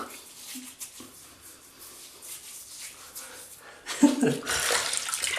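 Water runs from a tap to rinse off shaving lather, faint at first with a few small knocks, then louder splashing toward the end, with some soft voice sounds.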